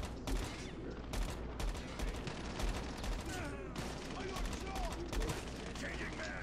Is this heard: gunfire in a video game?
yes